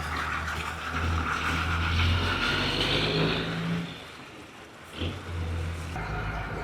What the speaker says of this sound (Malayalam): നമ്മുടെ വർക്കൊക്കെ കഴിഞ്ഞൊന്ന് ഓടിച്ചു നോക്കാനായിട്ട് പോവാ.